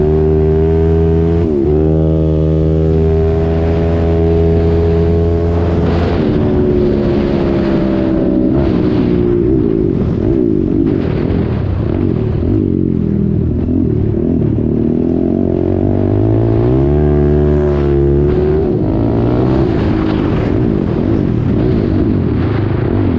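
Yamaha YFZ quad engine revving hard and shifting gears: a loud, close, buzzing motor note that climbs, drops sharply at each shift and climbs again, continuous with no talk.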